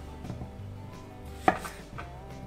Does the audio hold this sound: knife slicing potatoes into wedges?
yes